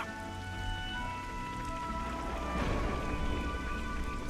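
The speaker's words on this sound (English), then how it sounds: "The rain and thunder noises really help this" Steady nighttime rain ambience from the Xenoblade Chronicles 3 video game, a dense continuous hiss of falling rain with soft low rumble, layered over sustained musical tones and no voices.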